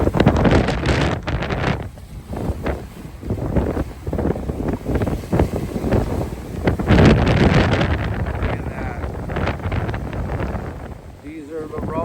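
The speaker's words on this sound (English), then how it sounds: "These are the rollers coming out of Longport, totally over top of the docks" Heavy storm surf from a nor'easter rolls over the docks at Longport near Ocean City, New Jersey, a loud continuous wash and roar with repeated surging crashes under strong wind buffeting the microphone, with people talking over it.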